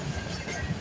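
A CN freight train rolls past at Stewarttown, Ontario, on a rainy day, a close, continuous rumble with rattling wheel noise and low clatter from the cars filling the short stretch.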